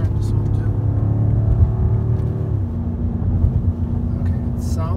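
A 2018 BMW M5 F90's engine revs steadily under throttle, then the pitch drops partway through and settles into a lower drone, loud and close from inside the cabin.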